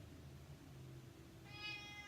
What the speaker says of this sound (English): It's our cat.